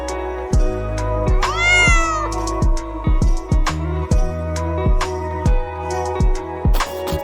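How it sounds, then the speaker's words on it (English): A cat meows in a drawn-out, pitch-bending cry near the middle, set against a busy backdrop of repeated percussive thumps and music-like tones. "C for cat."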